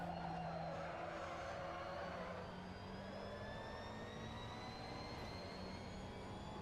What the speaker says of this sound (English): the engine sound itself just drones